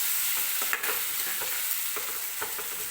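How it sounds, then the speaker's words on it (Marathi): Grated raw mango being stirred into frying masala in a pan for kairicha bhat, a close, steady sizzle broken by repeated spoon scrapes and stirring clatters. "ही कैरी आपल्याला व्यवस्थित या मसाल्यांमध्ये मिक्स करून घ्यायची आहे"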